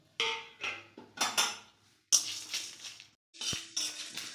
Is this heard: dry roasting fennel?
yes